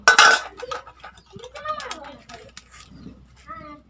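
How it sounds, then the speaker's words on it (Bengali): A pot of cooked dal is lifted off a home kitchen stove with a loud metallic clank and a few clinks of cookware, followed by quieter rattles while voices talk nearby. "আমি ডালটাকে এখন নামিয়ে ফেলবো"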